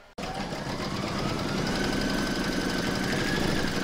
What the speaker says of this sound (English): Put your hoop back into your machine and stitch round number five to secure it.